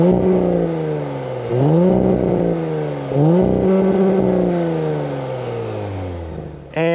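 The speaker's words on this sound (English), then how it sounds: "quad exhausts that, you know what? Let's just give this little V6 a listen." The V6 engine of a 2022 Audi S5 Cabriolet roars through quad exhausts, revving up in three rising bursts that each fall back, then settling before a final sharp blip at the end.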